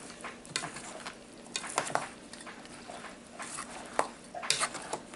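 Salt gets stirred into chopped tomato pico de gallo in a bowl, with soft wet squelches and light scrapes and clinks of a utensil in irregular strokes, close and fairly quiet, with no voices.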